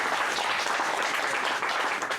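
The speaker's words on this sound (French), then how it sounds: "Applaudissez, s'il vous plaît" Audience at a conference on student leadership and ethics in Africa applauding, a dense, loud, continuous clapping crowd sustained evenly throughout with no gaps.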